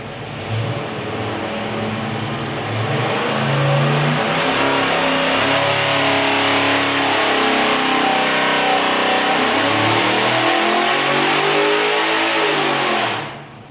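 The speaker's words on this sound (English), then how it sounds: "we're gonna turn the RPM up just a little bit more" A 1968 stroker 540 engine on a dyno roars loud and close, climbing in revs and holding a strong, sustained howl for over ten seconds before cutting off sharply.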